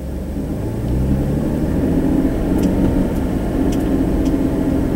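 A truck fitted with a Detail K2 Avalanche snow plow reverses through snow, its engine giving a steady low rumble close by for several seconds, with faint clicks, and no one speaking.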